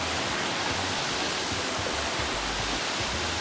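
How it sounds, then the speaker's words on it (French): A waterfall at Etcha in the village of Iwassi, Amou prefecture, Togo, pours down in a steady, dense roar of rushing water, close and continuous with no voices over it. "La cascade aux chutes spectaculaires, symbole d'espoir et de beauté."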